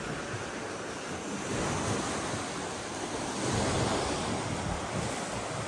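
Ocean surf washes steadily onto a small beach on Tinian near the main town, a continuous broadband roar with two gentle swells in loudness, mixed with wind buffeting the microphone.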